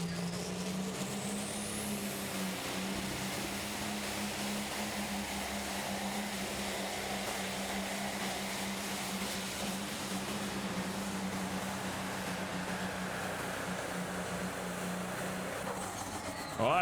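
Holy Smokes, a needle-nose Peterbilt hot rod semi, roars at a truck pulling event with a sustained heavy engine drone that slowly shifts pitch, loud and continuous throughout.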